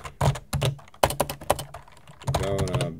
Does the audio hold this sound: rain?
no